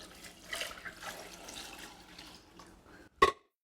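Six cups of water go into a hot pot of toasted spices for red lentil dhal, a soft trickling pour that ends in a brief sharp splash, close by with no talking.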